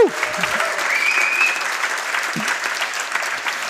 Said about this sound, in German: ihr müsst nochmal klatschen, damit es alle hören